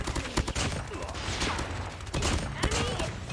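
Rapid bursts of gunfire from a Mythic M13 rifle in a ranked Call of Duty Mobile match form a dense, continuous crackle with a few sharper shots, loud and close throughout.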